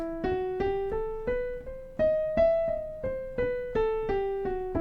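A sequence of plucked or struck notes steps evenly through an E natural minor scale, about two notes per second, each decaying before the next, close and clear.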